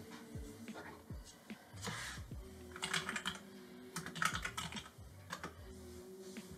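Someone types a password on a computer keyboard, a run of close, quick, irregular key clicks with short pauses, faint room sound behind it.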